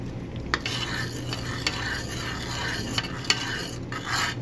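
A spoon stirs meatball tomato sauce in a pot, making a steady scraping swirl with a few sharp clinks against the metal. Faint sizzling runs underneath and no one speaks.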